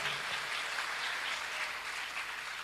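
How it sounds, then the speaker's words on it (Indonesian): Steady applause from a church congregation after a call to clap for God, a dense even patter of many hands sustained throughout at moderate volume. "Beri tepuk tangan yang meriah bagi Tuhan."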